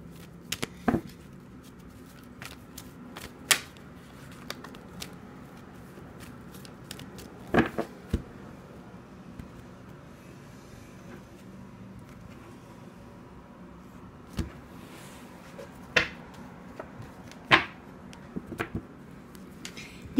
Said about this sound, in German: Ich werde diese Karte gut mischen.